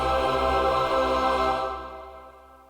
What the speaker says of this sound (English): I've included some angel choir sounds between each clip.